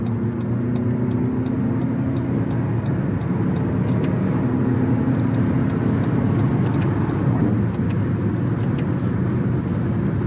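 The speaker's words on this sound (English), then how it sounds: "I think Lexus and Toyota in general have always made a really great 4-cylinder, and I think that that's represented in this turbo" Turbocharged 4-cylinder engine of a 2023 Lexus NX 350 F Sport Handling on the move, a steady broadband road and engine drone with faint ticking above, constant and even throughout.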